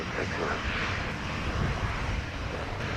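An airplane at a Jamaica airport, a steady, broad engine roar heard at moderate distance throughout, with faint background chatter.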